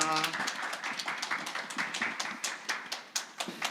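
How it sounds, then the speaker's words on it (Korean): A brief burst of applause from participants at the 2021 Youth Policy 100-Person Debate Forum, a light, scattered patter of many hands, fairly quiet, with a voice speaking briefly at the very start. "우리 서로에게 수고했다는 박수 한번 쳐볼까요"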